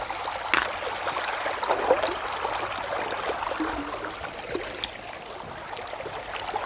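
Water from a spring trickles and gurgles steadily nearby beside a brook, a soft continuous flow with occasional small splashes and no talking.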